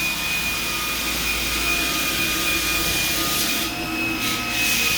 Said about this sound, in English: This is the standard flooring edger. Flooring edger machine.